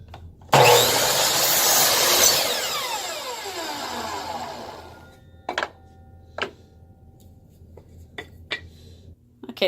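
A hand saw cutting the top piece of wood for a rustic picture frame, a loud rasping burst of strokes for a few seconds followed by several sharp knocks and taps as the piece is handled.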